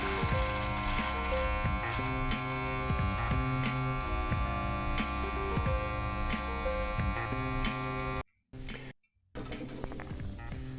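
An electric shaver or trimmer runs steadily, taking off a beard left uncut for ten years, with a constant buzzing hum that cuts out briefly twice near the end before resuming.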